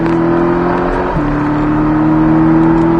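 Porsche Cayman 718 S engine pulling hard under acceleration from inside the car, a loud, rising mechanical drone with a brief dip partway through, then building again.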